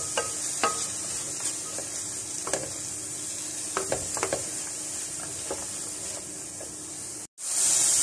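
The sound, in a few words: mixing onions into frying keema in a pan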